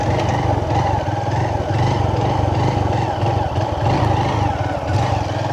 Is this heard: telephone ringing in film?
no